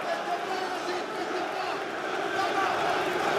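A French crowd roars steadily behind a local fighter at a PFL Paris MMA event, a dense, continuous wash of arena cheering and babble that holds loud for the whole stretch.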